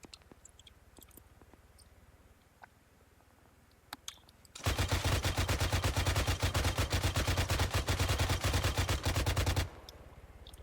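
Sustained rapid automatic gunfire in the Arma 3 military shooter, a loud dense burst lasting about five seconds after scattered distant shots, with no talk.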